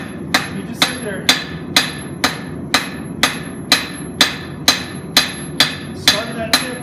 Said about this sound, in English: put it on the corner of the anvil and put it at just a tiny angle, probably 10 to 15 degrees, not much